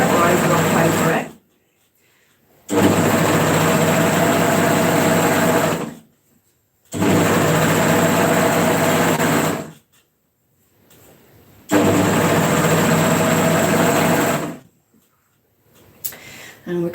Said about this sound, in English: Let's make sure that my seam is lying flat as I serge over it